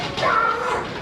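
A person's voice imitates a dog's bark, one drawn-out yelping sound at close range.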